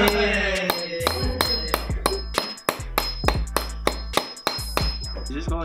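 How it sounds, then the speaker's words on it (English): A hammer repeatedly slamming a fitting against the ground to crimp it, about a dozen loud, sharp metallic strikes in an uneven rhythm, close up with a ringing tone between blows. "we're just gonna janky crimp this thing by slamming a hammer against it on the ground."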